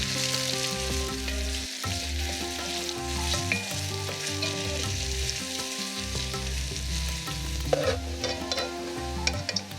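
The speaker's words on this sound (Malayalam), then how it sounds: "ഇനിയും ഞാൻ ചോറിൽ ഇടാനായിട്ടുള്ള ഉള്ളി വറുത്തെടുക്കുകയാണ്" Thinly sliced onions, three medium ones, fry in vegetable oil for a Kerala-style mutton biryani, giving a steady close sizzle throughout. Tonal music plays over it and no one speaks.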